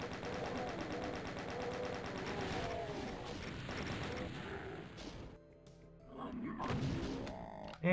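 Rapid automatic chain gun fire from Doom II, a dense, continuous rattle of shots with game music and effects underneath, breaking off partway through as ammunition runs out before other game sounds resume.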